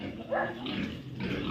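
Sows and other pigs in a farm pigpen, raised for lechon, grunt and snort continuously at close range, with one louder squealing grunt rising briefly; no one speaks.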